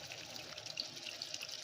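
Dissolved tamarind water is poured from a container into a cooking pan while making sundakkai vathal kuzhambu, a brief, continuous splashing trickle heard close up.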